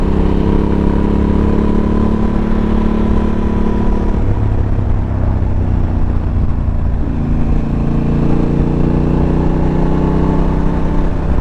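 Honda XL750 motorcycle riding on a road, its engine running steadily and loudly throughout with constant wind rush and slight shifts in engine pitch, no talk.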